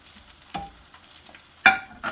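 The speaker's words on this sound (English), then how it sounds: "So I'm going to let it cook on this side for a while, then I'm going to flip it over." A cheese and sausage omelet frying in a pan on a gas stove, with a soft steady sizzle and two sharper scraping knocks from the utensil, one near the middle and a louder one toward the end, with no talking.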